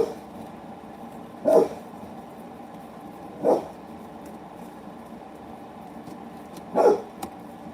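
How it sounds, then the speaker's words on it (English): A dog barks three times, faint and distant, spaced a few seconds apart over a steady indoor hum. "What's this guy barking about?"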